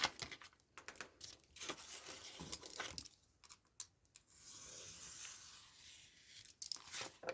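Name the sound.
cutting paper for a craft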